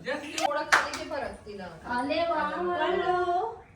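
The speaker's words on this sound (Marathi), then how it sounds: "टाळ्या" Several people clap their hands at a family celebration: a short burst of sharp claps near the start, followed by a voice that carries on alone.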